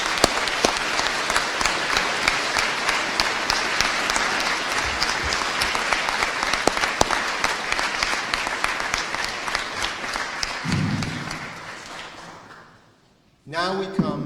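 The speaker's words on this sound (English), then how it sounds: "Let us give a big round of applause to all of the LAS teachers." Sustained applause from a graduation commencement audience at Leysin American School, honouring the teachers; dense steady clapping that fades near the end, with a brief low voice just before it dies out and a burst of noise returning at the close.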